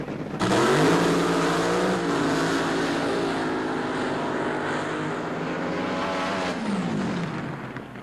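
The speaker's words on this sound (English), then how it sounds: "I want to take you on a little ride in one of those AA fuel dragsters." A 1976 AA fuel dragster runs a quarter-mile drag strip, its engine bursting in with a loud roar that holds steadily for several seconds before easing off, with no speech.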